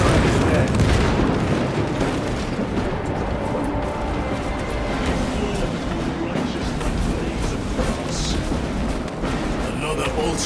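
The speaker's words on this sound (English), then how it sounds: "Frag grenade out!" A frag grenade goes off in Space Marines 2 amid a battle, one deep boom among constant rumbling combat noise and gunfire. Voices talk over the loud, continuous din.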